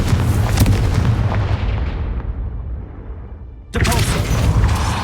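A Confringo spell explodes in Hogwarts Legacy with a loud, booming blast that rumbles and fades over several seconds, then a second heavy explosion bursts in abruptly.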